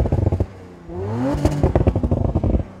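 Audi RS5 twin-turbo engine revved close up, rising in a smooth sweep toward a soft limiter, then stuttering in rapid pulses; loud and alone with no talking.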